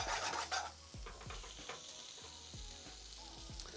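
Tomato puree heating in a pan for an Indian madras, with soft bubbling sizzle under repeated low scraping strokes of a spoon stirring against the pan, quiet and close.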